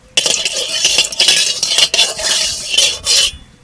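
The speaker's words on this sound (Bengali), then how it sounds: "জিরা ফোড়ন দিচ্ছি" Cumin seeds are tempered in a little hot oil in a pan while a utensil stirs and scrapes, making a run of close, loud scraping clatters with a light sizzle underneath.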